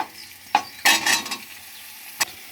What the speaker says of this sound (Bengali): একইভাবে এবার আমি মিষ্টি কুমড়োগুলোকেও এইভাবে লাল লাল করে ভেজে নেব